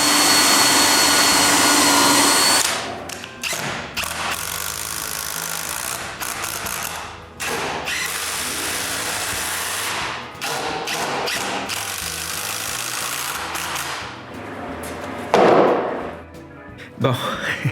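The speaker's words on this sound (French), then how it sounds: "percer un trou pilote, puis visser une grande vis" A power drill bores a pilot hole and then drives a long screw into clamped wood in a home workshop, a loud whirring motor that runs in repeated bursts with brief pauses and thunks between them.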